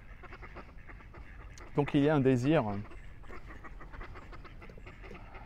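Ducks give a single loud nasal quacking burst partway through, standing out over quiet outdoor background while someone speaks before and after it.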